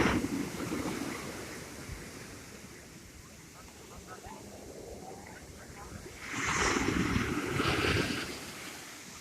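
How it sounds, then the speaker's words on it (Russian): Sea waves roll and break on a beach under steady wind, a continuous wash that swells into a louder surge of surf near the end. "Вот и тут большая волна."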